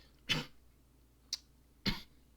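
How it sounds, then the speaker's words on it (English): Two sharp coughs with a small catch between them, close by and fairly quiet, each a short burst separated by silence. "coughing a little bit"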